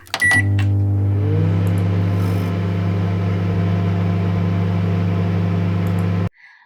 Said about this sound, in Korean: 네 번째 소리는 우리 전자레인지를 돌리는 소리였습니다